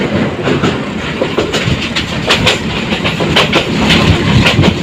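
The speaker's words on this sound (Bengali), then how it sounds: "ট্রেনটি ছুটে চলছে" Surma Mail, a small local train in Bangladesh, runs at speed with a steady loud rumble and rhythmic clickety-clack of wheels over rail joints, heard from inside a nearly empty carriage.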